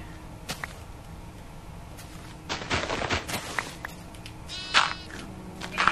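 A baby sheep bleats briefly in Minecraft amid clattering, rustling game sounds and scattered sharp clicks, with a faint steady hum underneath.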